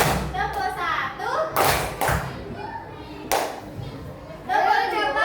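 A class of young pupils claps hands in counted rhythm, sharp bursts of clapping separated by pauses, with a teacher and children talking over and between the claps.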